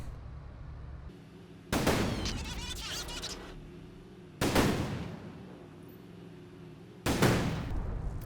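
Three loud, booming blasts from an IS-2 tank's main gun firing at infantry in Company of Heroes 2 arrive a few seconds apart. Each has a sharp onset, followed by a rumbling decay over a low background hum.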